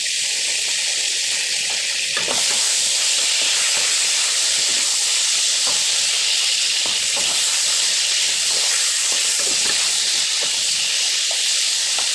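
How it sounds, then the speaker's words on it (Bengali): Hot oil spatters and hisses fiercely in an overheated wok after pointed gourd and a few drops of water go in, a loud continuous sizzle with scattered crackling pops throughout. "এত তেল ছিটলে কি সামনে দাঁড়িয়ে থাকা যায়?"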